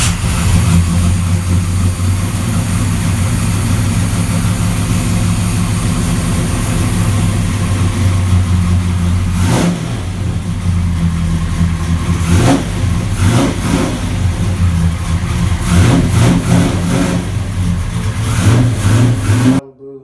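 Engine of a Chevrolet Malibu, originally factory four-speed with a 350 and rock crusher gearbox, idles with a loud deep rumble, then blips through several sharp revs toward the end, close and loud.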